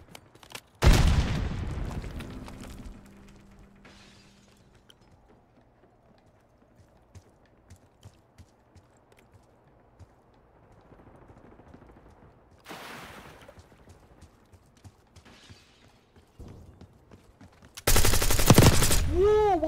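Gunfire from the video game Black Ops 6, heard as loud broadband bursts near the start, mid-clip and at the end, with sparse faint shots and quiet game ambience between them.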